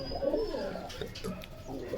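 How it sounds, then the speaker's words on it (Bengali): Rajshahi pigeons at a Bogura pigeon market give soft, low cooing calls throughout, mixed with faint background chatter and bird noise at moderate distance. "রাজশাহী কবুতর, রাজশাহী সবজি কবুতর।"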